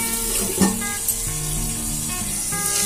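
Stuffed brinjals fry in a pan over a medium flame, giving a soft continuous sizzle with faint crackles and a light clink or two of utensil contact, fairly quiet and close.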